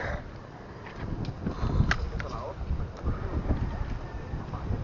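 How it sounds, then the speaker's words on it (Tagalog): Gusty wind buffets the microphone over a low rumble outdoors, with a few faint knocks and a voice murmuring in the background. "Mahangin oh."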